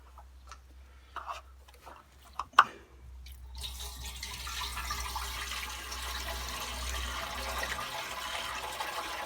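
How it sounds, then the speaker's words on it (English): Water poured into a rusty fuel tank, a few drips and small clunks first, then a steady hollow splashing stream filling the metal tank. "So we need to pour the water in first."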